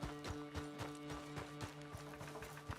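Horse hooves gallop across the ground in the Red Dead Redemption 2 video game, a quick, even run of soft clip-clop beats heard at a modest distance and fairly faint.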